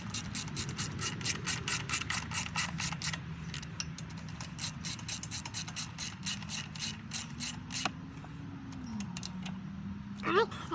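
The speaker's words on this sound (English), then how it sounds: "Now if I can get the wrench turning the right way." Ratchet wrench clicking in quick repeated bursts while working on an old engine that has not run in ten years, close and fairly loud, with someone talking low underneath.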